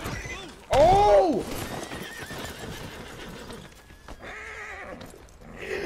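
Horse in a video game lets out a loud whinny near the start, then its hooves clip-clop along, with players talking and game ambience underneath.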